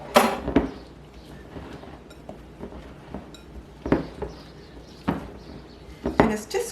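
A spoon mixes heavy cream into blackberry cobbler dough in a bowl, producing sporadic clinks and taps against the bowl with soft scraping between them.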